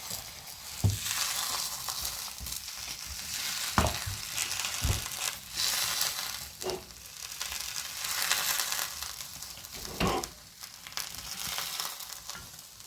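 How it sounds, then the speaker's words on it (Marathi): A methi paratha fries in oil on a hot tawa griddle, a continuous crackling sizzle broken by occasional scrapes and presses of a spatula, with no talking. "तेल टाकलं तव्यावर आणि पराठा टाकला।"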